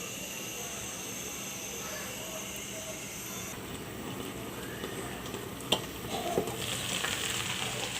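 Okra frying in a covered pan on very low heat, a soft continuous sizzle with a few clinks and stirring scrapes near the end.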